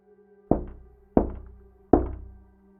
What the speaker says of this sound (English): 3 soft knocks at my door sent me flying through the air